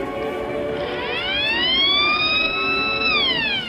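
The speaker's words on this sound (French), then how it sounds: "se termine lorsqu'une sirène retentit" A wailing siren rises in pitch and holds steady before falling away, loud and continuous to the end of an art performance, with a steady noisy background underneath.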